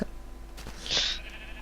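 A white sheep in the Minecraft video game gives a single short bleat at moderate level over a low, steady game background hum, with no talking.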